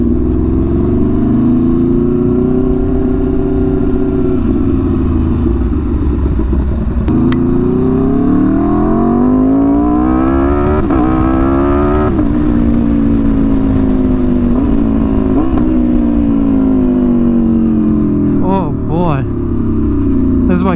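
Motorcycle engine revving and accelerating on a test ride, loud and close, its pitch climbing and falling through several gear changes with steady wind noise.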